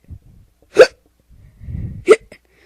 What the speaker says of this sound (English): Oh God, I might have the hiccups.